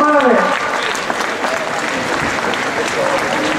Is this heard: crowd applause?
yes